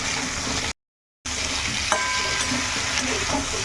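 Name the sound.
stirring sautéed vegetables with tomato in a pan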